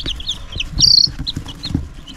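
Cornish cross chickens on a farm clucking in short, close bursts, with a brighter squawk partway through, and no talking.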